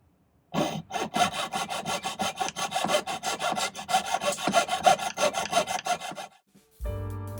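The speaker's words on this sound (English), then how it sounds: "I think I like sawing where I don't have to worry about it being straight." A jeweler's saw cuts through silver pendant pieces at a bench, giving fast rhythmic rasping strokes that run steadily for several seconds, close and clear, before stopping abruptly with a brief clunk at the end.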